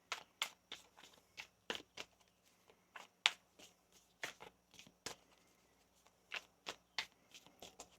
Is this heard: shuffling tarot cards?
yes